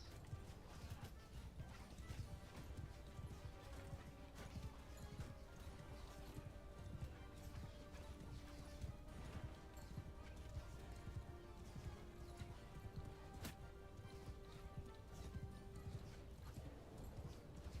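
Horse hooves clip-clop steadily in the Mount & Blade Bannerlord video game during a siege, a busy rhythmic clatter with an occasional whinny and distant battle crashes under faint background tones.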